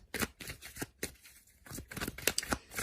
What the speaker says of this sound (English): let's give the cards a good shuffle